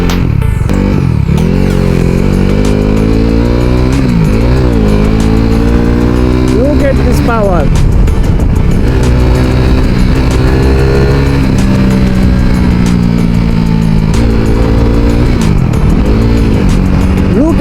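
A KTM RC 390 motorcycle's 390cc single-cylinder engine revs loudly and close by, its pitch repeatedly climbing and falling in throttle blips over a steady idle rumble.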